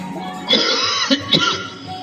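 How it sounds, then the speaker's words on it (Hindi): A man coughs and clears his throat in a school drama scene, a few rough harsh bursts close by with a faint background murmur. "आप खांसना बंद करोगे प्लीज?"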